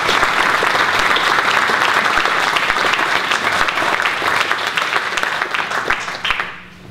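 Audience applause greets three guest speakers at the opening ceremony of a 2016 Mennonite peace-building gathering. The clapping is loud, dense and sustained, then fades away at the very end.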